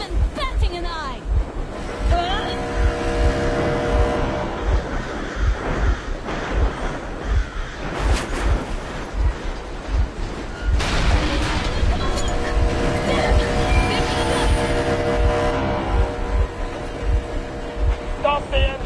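Boat engine running in the video game Metro Exodus, a steady low motor drone with water and wind noise around it, a voice talking over it.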